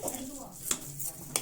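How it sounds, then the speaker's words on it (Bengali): A few quick scrapes and light clinks of a spoon stirring sugar in a cooking pot, close and fairly quiet over a faint background hiss. "এটা খুব ভালোভাবে এবারে নাড়িয়ে নিতে হবে।"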